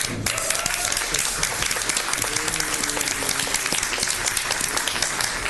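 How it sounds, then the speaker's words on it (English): A crowd in a county commissioners court bursts into sustained applause, dense clapping that continues steadily at a moderate distance. "I want to lead the court in a round of applause to Mr. Schaffner"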